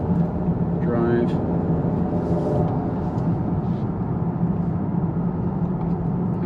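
A 2018 or newer Honda Accord with the 1.5 or 2.0 engine and a freshly installed upper engine mount, driving with a steady low engine rumble and road noise throughout, with someone talking over it and a faint rattle in the cabin.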